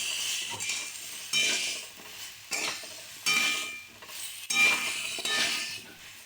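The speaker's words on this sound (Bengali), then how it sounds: "এবার আমি ভালো করে কষে নিই" Spice paste for a radish and pumpkin curry is stirred and fried in a pan, with repeated bursts of sizzling and scraping from the spoon in an uneven rhythm.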